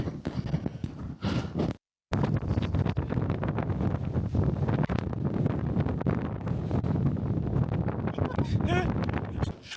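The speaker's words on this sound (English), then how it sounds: "It's so windy." Loud, constant wind buffeting the microphone near the Old Man of Hoy in Scotland, roaring and gusting throughout with a brief dropout near the start.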